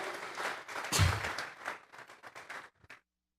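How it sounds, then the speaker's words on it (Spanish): Congregation clapping in a church service, a fairly faint, brief wave of hand claps that rises, peaks, then thins to a few scattered claps before stopping. "Vamos a regalar ofrenda de palmas al Dios de la gloria"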